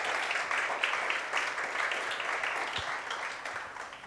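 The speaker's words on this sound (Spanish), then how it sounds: "¿Alguien le da un aplauso al Señor?" A church congregation applauds in a continuous, even wash of clapping that holds at a moderate level and fades slightly toward the end.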